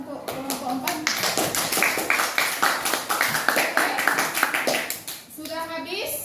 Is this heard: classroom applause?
yes